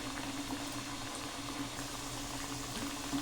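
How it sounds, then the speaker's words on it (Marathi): Oil bubbles steadily in a pan as kothimbir vadi shallow-fries, a dense, even sizzle and gurgle close by that holds constant without pauses and with no talk. "तेलाचे थोडेसे बुडबुडे कमी झाले."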